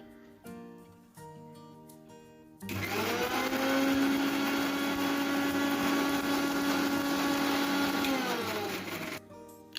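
An electric mixer grinder blends spice paste with chilli, a little salt and water, a loud steady whirring drone after a brief start, running continuously for several seconds before cutting off.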